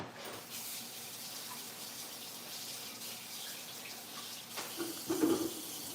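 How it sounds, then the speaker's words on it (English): Hands are washed under a running tap, a steady soft stream of water that continues throughout and grows louder with splashing near the end, with no talking. "once more I need to wash my hands"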